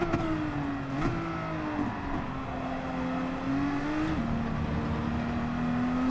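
Heavy race cars in the Gran Turismo 7 racing game drone steadily, engines holding and shifting pitch with occasional gear changes, a continuous moderate engine hum throughout.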